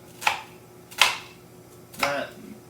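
A knife chops through par-cooked pasty filling on a cutting board in three separate crisp strokes, each a sharp knock spaced about a second apart.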